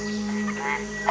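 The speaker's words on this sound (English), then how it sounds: "In competition with other male frogs, the vocalizations increase" Male white-lipped frogs calling in competition in a forest at night, a dense, close chorus of steady tonal croaks.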